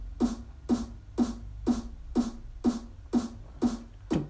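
A crisp high-frequency snare layer hit repeats nine times at an even, moderate tempo, each strike bright and snappy with a short decay, alone without other instruments.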